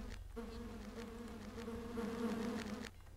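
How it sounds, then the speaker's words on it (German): Bees buzz continuously inside the dungeons of the computer role-playing game Land of Lore, a steady droning hum at moderate volume that holds for a few seconds and then drops off, with no voice over it. "Und überall höre ich Bienen."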